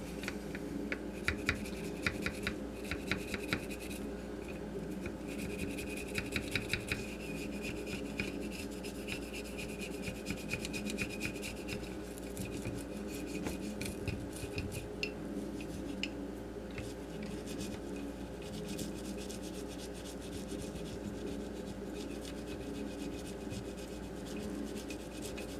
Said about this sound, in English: I'll take a brush and dip it in some solvent and just scrub the inside of the receiver down.